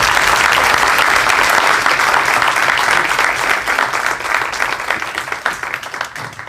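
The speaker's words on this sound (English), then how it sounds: "let's have a round of applause for this" Audience at a community panel event on Chicago's Paseo Boricua breaks into loud, sustained applause close by, the dense clapping holding steady before gradually thinning and fading out near the end.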